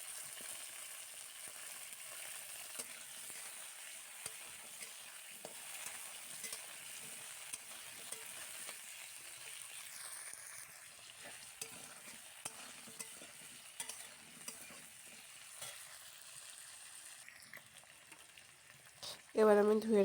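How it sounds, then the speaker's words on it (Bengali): Potatoes frying in oil in a pan with green chillies while they are stirred, a faint steady sizzle broken by small scraping clicks, and a louder knock at the very end. "এবার আমার ধুয়ে রাখা আলুগুলো দিয়ে দিচ্ছি। আলুগুলোকে একটু লাল লাল করে ভাজা করে নিতে হবে।"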